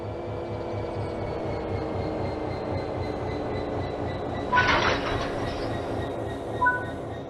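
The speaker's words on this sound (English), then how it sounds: "Now couple the locomotive to the freight wagons." Class 66 locomotive rolling toward and coupling to freight wagons in Train Sim World 3, a steady rhythmic rumble of wheels on track with one loud metallic clank midway and a smaller knock near the end.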